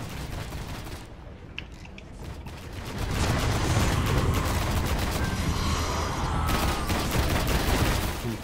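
Dense gunfire in the video game Destiny during a Hive boss fight, with a bursty stretch then a sustained loud barrage of rapid shots and mechanical clatter from about three seconds on, filling the whole clip.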